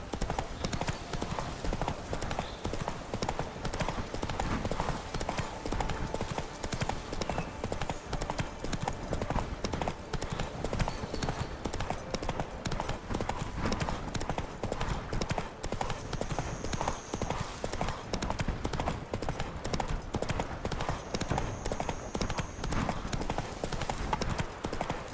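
Roach, a horse in The Witcher 3, gallops steadily with a fast, unbroken rhythm of hoofbeats, loud and close throughout, with a brief faint whinny.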